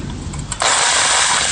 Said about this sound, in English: Here we are drilling the holes around.